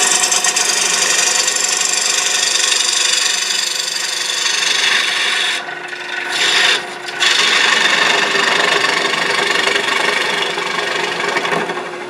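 A lathe gouge cutting a wooden offering plate, a steady loud shearing hiss and rasp of the tool on spinning wood, with one short lull and a brief break partway through.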